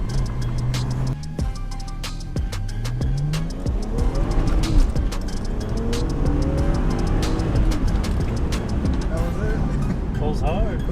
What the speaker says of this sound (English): That was 70 miles an hour on second gear.